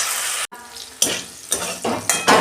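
Salted, turmeric-dusted potatoes fry in a pan, with a close sizzle punctuated by several sharp bursts as the pieces are tossed or stirred, no talking.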